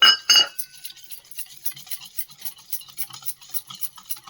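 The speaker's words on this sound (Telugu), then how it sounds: "ఈ పాలల్లో ఈ జున్ను పౌడర్ని ఉండలు లేకుండా కలుపుకోవాలన్నమాట" Junnu (colostrum) powder being stirred into milk in a bowl: two sharp clinks at the start, then soft rhythmic spoon scraping and tapping, close and fairly quiet.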